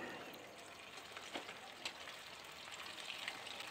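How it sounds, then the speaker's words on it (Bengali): Chital fish balls frying in hot mustard oil over medium-low flame give a soft, continuous sizzle with a few faint pops, fairly quiet and close. "ভালো করে সর্ষের তেলটা গরম করে মিডিয়াম টু লো ফ্লেমে রেখেই ভাজছি।"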